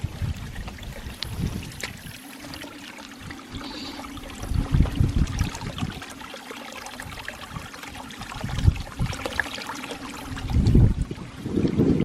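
Water from a farm drain tile line trickles and splashes steadily outdoors, with gusts of wind buffeting the microphone and a few louder surges of flow toward the end.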